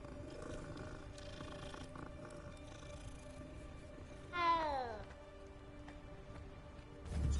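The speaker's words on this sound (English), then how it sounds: "Oh, it's a kitty cat." A cat character in the Hogwarts Legacy video game gives a single drawn-out, rising-and-falling meow over a steady hum of game ambience, with a low purring rumble at the start.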